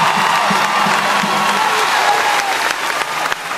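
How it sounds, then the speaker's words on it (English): A studio audience bursts into loud, sustained clapping mixed with a few cheers, dense and close, tapering slightly toward the end. "let's give him a round of applause again"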